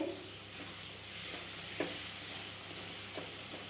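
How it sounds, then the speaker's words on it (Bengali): Spice paste for a Bengali mustard-oil fish curry sizzles in hot oil with a steady, moderately quiet frying hiss, punctuated by a couple of soft scraping stirs. "মশলার থেকে কাঁচা গন্ধ যেন চলে যায়, এইভাবে ভাজতেই থাকবো।"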